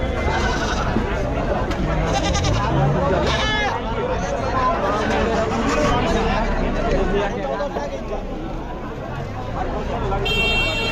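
Domestic goats bleat repeatedly amid a busy outdoor goat and sheep market at Chakan, Maharashtra, their calls mixed into a constant hubbub of crowd chatter and voices close by.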